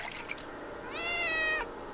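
A cat meows once in a hidden-object puzzle adventure game, a clear drawn-out tonal cry in the middle of the clip over a quiet, steady background.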